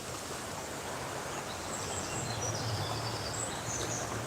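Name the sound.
birds singing by a river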